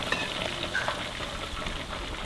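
Garlic fries in hot oil with a steady, close sizzle and occasional crackles, heard alone without voices.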